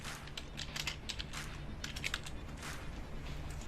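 Keys on a computer keyboard clatter in quick, uneven bursts of taps, close but soft, with steady faint background hum and no voices.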